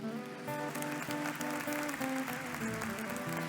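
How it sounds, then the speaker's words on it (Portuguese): A church congregation applauds in praise, a steady dense wash of many hands clapping together, sustained and fairly loud throughout, with music-like tonal layers running beneath the clapping. "Pode aplaudir o Senhor."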